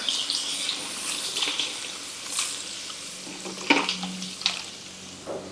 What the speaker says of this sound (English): Now we're going to add in our water.